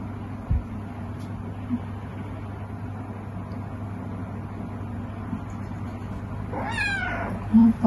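A cat gives a short, faint meow late in the clip over a steady low indoor hum, with a few soft knocks earlier and otherwise little happening.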